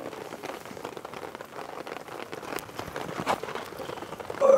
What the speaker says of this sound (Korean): 비가 이렇게 주룩주룩 왔지.